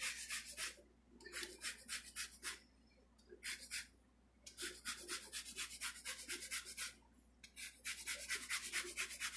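Quick bursts of rasping strokes from a handheld kitchen zester grating citrus peel while making a galette, in several close rhythmic runs separated by short pauses.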